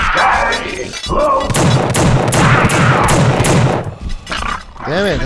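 Gunfire from The Suffering video game, a series of loud rapid shots and bursts through the middle of the clip over game sound, with a voice briefly heard.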